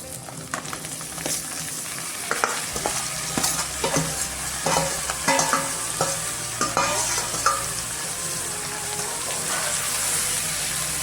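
Kohlrabi frying in a pan with spice paste, with a loud ongoing sizzle and repeated clanking scrapes of a spoon stirring the vegetables, and a low rumble underneath.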